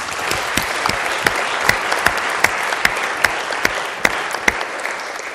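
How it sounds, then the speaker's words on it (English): Church congregation applauding newly elected church leaders at a service, a steady wash of clapping with sharp individual claps standing out, fairly close and loud, continuing for several seconds without talk. "Shall we give them a round of applause?"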